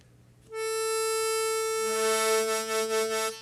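A tongue-blocked octave on a C harmonica, 1 and 4 blow C sounding together, rings as one full, steady sustained chord of about three seconds, with a faint wavering in the later part.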